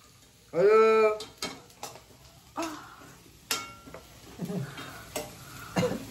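Poha with turmeric stirred in a hot pan on a home stove, a spoon scraping and clinking against the metal over a light sizzle, with a few separate knocks and scrapes through the stirring.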